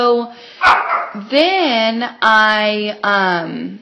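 A pet dog indoors gives four loud, high, yipping barks at a steady pace, close by, with a person briefly speaking.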